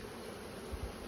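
Large Russian honey bees hum in an open hive, a faint, steady buzz with a couple of soft low thumps and no talking.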